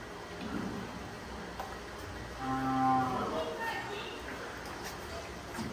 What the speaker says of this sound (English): So this is feeding time for the cows.